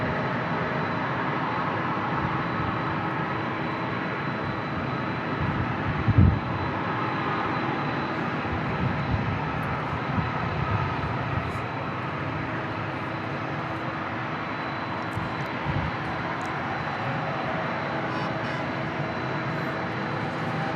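Airbus A321neo airliner at San Diego International Airport, a steady broad jet roar holding near and loud throughout, with a brief sharper bump partway through and no talking over it.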